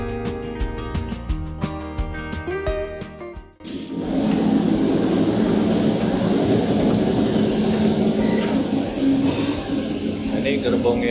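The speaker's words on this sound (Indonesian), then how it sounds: "Aduh, keretanya goyang-goyang." Interior of a Railjet EuroCity train running from Zurich to Innsbruck, a steady loud rolling rumble and rattle of the carriage in motion, with a brief quieter patch partway through before the running noise swells again.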